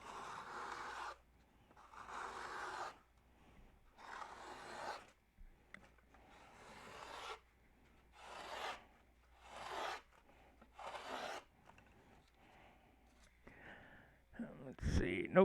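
A hand plane shaves a thin piece of wood in long repeated strokes, each a breathy rasping swish of about a second followed by a short pause, close and alone, with a sharp knock at the end.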